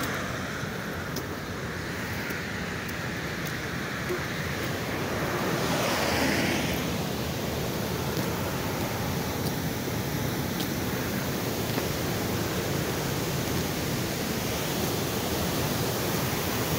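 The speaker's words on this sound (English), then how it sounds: "There is another running water here." Running water in the Black Forest of south-west Germany, a steady broad rushing wash heard outdoors, constant and fairly loud throughout with no talking.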